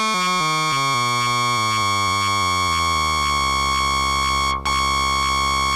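A Behringer Spice synthesizer's VCO sounds a bright, buzzing tone whose modulation steps through rapid pitch changes as the sub frequency is lowered, then settles into a steady, sustained drone.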